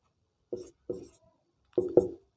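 A formula is written on a board in four short, crisp strokes: two well spaced, then a quick pair near the end, each standing alone in near silence.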